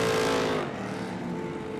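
An Ultra4 off-road race vehicle roars through the gravel pit turn at the Crandon World Championship at night, its engine loud at first then fading to a steady distant drone.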